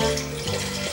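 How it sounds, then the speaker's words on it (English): Water being poured into a container, a steady close gush and splash lasting about a second with no talking over it. "I'm gonna add some water."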